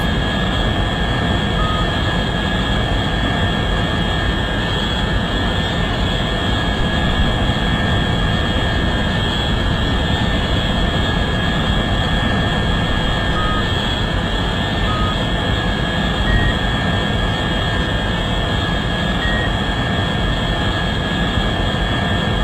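Steady, loud engine roar of a scramjet burn at Mach 12 to 13 in the Orbiter 2016 spaceflight simulator, a continuous broadband rumble with a faint high tone, unchanging throughout and with no voices.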